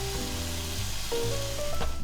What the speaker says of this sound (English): let's just crush them up with our spatula so we can get them nice and chunky